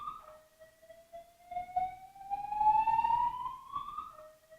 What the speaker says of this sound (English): we have yet another alarm here in the building